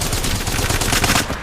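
Rapid automatic gunfire in Apex Legends, a dense unbroken burst of shots lasting over a second, loud and close with no talking.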